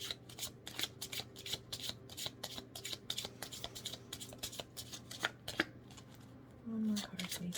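Deck of tarot cards shuffled for a card reading, rapid close riffling and sliding flicks in uneven bursts that keep going throughout, with a brief quiet voice near the end.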